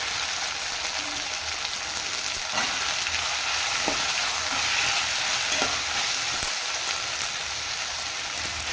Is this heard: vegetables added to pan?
yes